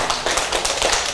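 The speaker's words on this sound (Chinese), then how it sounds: "为自己再鼓掌一下好不好？" An audience at a lecture in a Taiwanese civic training class claps in quick, uneven bursts, close and fairly loud, with no voices over it.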